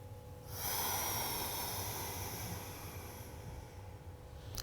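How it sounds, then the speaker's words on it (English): One long, deep breath during slow yoga stretches, a soft close airy exhale that holds steady for a few seconds and then fades, with no talking. "So inhale and exhale."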